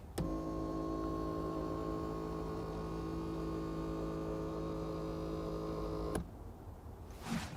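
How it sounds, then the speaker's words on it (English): A Mazda6's electric seat-base motor runs as a steady, loud mechanical whine with a constant pitch for about six seconds, then stops abruptly, leaving faint cabin noise. "The electric motor which moves the seat base is really noisy."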